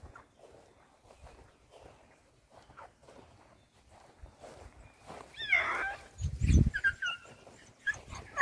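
Quiet shuffling and footsteps give way to a running rabbit dog's whimpers and a couple of sharp barks near the end, fairly close, in the rain.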